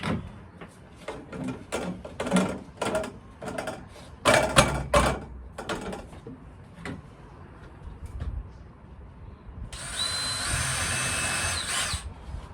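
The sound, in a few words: power drill drilling ceiling panel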